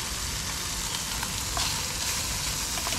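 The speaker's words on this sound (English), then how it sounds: "Some of the bacon's crisping" Bacon sizzling and crisping in mac and cheese with a béchamel crust, cooked outdoors in a boat, a steady dense crackle and hiss close by with no talk.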